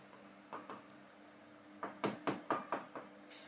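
Marker or chalk writing on a board during a data analytics class: a few scratchy strokes, then a quick run of five or six sharp stroke sounds, close and moderately loud over faint room hiss.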